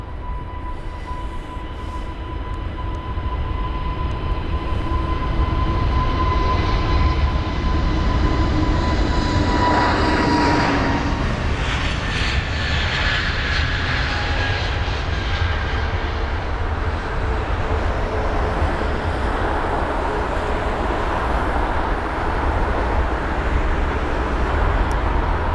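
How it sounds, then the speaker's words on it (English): An Airbus A320neo departs from runway 27R at London Heathrow, a steady loud engine roar with a tonal whine that swells and shifts as it passes, continuous and close for the whole stretch with no talk. "So the A320neo on the runway now. This is the first departure, runway 27 right today."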